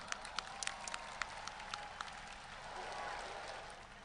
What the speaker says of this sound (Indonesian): kita berikan tepuk tangan yang paling meriah lagi untuk Banser Nahdlatul Ulama